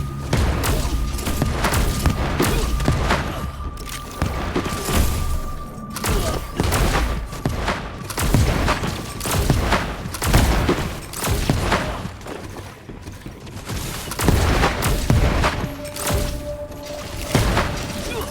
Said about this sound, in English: robots firing indiscriminately